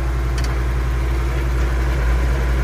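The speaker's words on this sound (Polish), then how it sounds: "Mamy na 1000 obrotów silnik teraz." A Case Magnum 7210 Pro tractor engine idles at 1000 rpm with cold oil, a loud, close, steady low drone that holds unchanged throughout.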